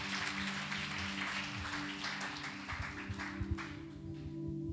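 A church congregation claps together in a brief, soft burst of rhythmic applause that sounds somewhat distant.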